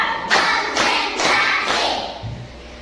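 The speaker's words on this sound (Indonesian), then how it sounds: "Tepuk 1, tepuk 2, tepuk 3, tepuk 4." A school class claps in a counted rhythm during a lesson, four separate bursts of clapping spaced evenly, loud and close, the last fading out, with no talk over them.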